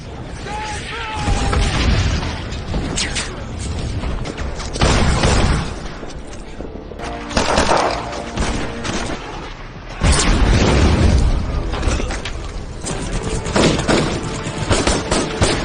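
Bomb blasts from a battle scene in a film, several heavy booming explosions in bursts with rumbling aftermath, loud and close, mixed with speech throughout.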